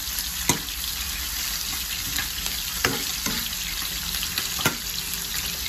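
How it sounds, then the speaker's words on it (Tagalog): Ginger frying in a pan for tilapia sarciado, a constant hissing sizzle with a few sharp utensil taps against the pan spaced several seconds apart, close by, no one speaking. "Haluin lang natin na ganyan. Ay, sarap na amoy ng luya."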